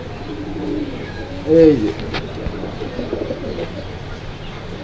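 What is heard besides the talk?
pigeons cooing at a market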